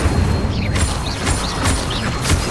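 Magic spell effects from Hogwarts Legacy, Accio and Incendio being cast: a steady clattering, mechanical rumble with repeated rising swooshes and bright bursts, loud and dense throughout with no talk.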